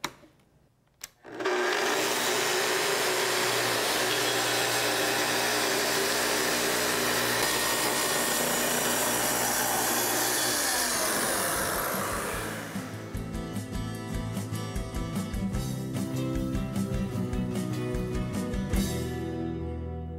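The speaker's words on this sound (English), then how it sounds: "To make your cut, first start the saw, then plunge down to your depth setting, and advance into the workpiece slowly." Festool TS 75 plunge saw starting up and cutting through a workpiece, a loud steady high-pitched whine that runs for about ten seconds, then shifts to a rougher, rattling tone as the blade spins down.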